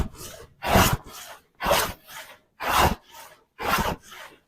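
A moulding plane shaves beaded timber boards in four strong, evenly spaced rasping strokes, each followed by a softer return scrape, close up with no talking.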